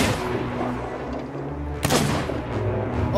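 Ship cannons firing in the video game Sea of Thieves during a megalodon fight: a sharp close blast near the middle over a continuous low rumble of game noise, with no voices.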